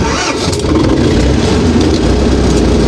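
A YuMZ tractor engine, newly fitted with a power-steering metering unit, starts and runs with a loud, steady, close rumble throughout, alone without speech.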